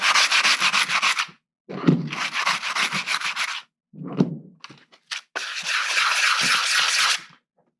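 Steady back-and-forth abrasive rubbing of wet sandpaper on concrete, in several long strokes broken by short pauses, close and fairly loud.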